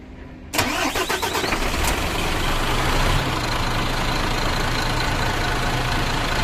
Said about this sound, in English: So we are going to start the engine.